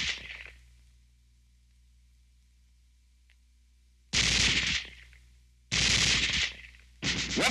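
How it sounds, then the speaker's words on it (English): Small-arms fire from a 1940s military instructional film: after a quiet stretch, three loud, sustained bursts of automatic fire hammer out in quick succession, the last one cut short. "Weapons giving automatic fire will fire continuously as long as pressure is applied to the trigger or until the ammunition is exhausted."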